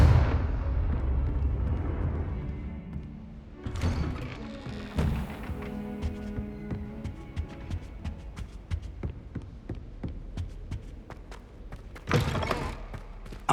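A Confringo blasting spell in Hogwarts Legacy erupts in heavy thuds and booms, followed by scattered taps and impacts over a low game soundscape, with another loud burst near the end; no talk.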